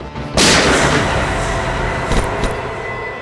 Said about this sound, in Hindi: गोली चली क्या बस?